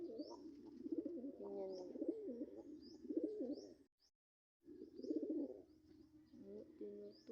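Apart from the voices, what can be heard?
pigeons cooing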